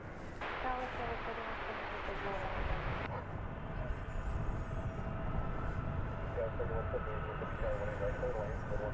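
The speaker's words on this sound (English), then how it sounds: "it's American 2830 and Airbus A321, which will be lifting off for Salt Lake City" An American Airlines Airbus A321 jet powers up for takeoff at DFW Airport. It gives a loud, continuous broadband engine roar that swells and stays dense throughout, with a faint whine on top.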